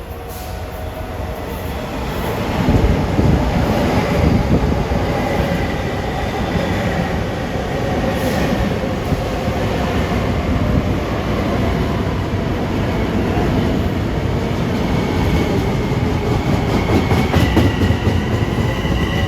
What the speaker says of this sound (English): Approaching at 8:36 is train 2014, Grand Central to Ronkonkoma